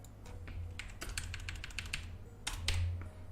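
A computer keyboard clatters in quick runs of keystrokes, close and distinct over a low hum, with a pause and then a final burst.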